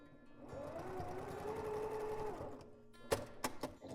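A sewing machine stitches fast for about two seconds while basting a strap onto fabric, a close, steady whirring run that ends in a few sharp clicks and handling knocks.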